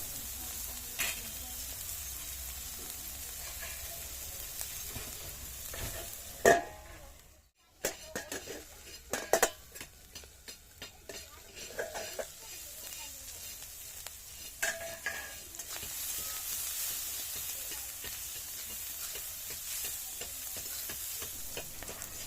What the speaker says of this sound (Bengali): সবকটি সবজি দেখতে পাচ্ছ আমাদের এখানে ভাজা হয়ে গেছে